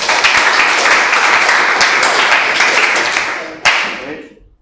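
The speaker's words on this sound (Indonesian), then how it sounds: "Tepuk tangan." A classroom of students claps loudly and together for several seconds, with a sharp final burst of claps before the room falls quiet.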